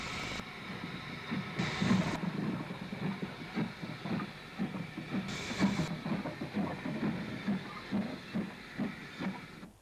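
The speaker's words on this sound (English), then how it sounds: "K-Class Mogul 32348 splashes out of the station on a Brighton to Eastbourne train." K-Class Mogul steam locomotive 32348 pulling a Brighton to Eastbourne train out of flooded Lewes station, a low rhythmic chuffing rumble with two bright bursts of steam hiss, fairly faint and steady throughout.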